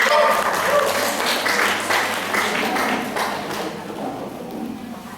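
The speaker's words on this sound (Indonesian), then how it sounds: "Ya, aplaus dulu buat dinamik." Audience applause at an Indonesian product-promotion event, a broad wash of clapping that starts loud and gradually thins and fades over about five seconds, with voices mixed in.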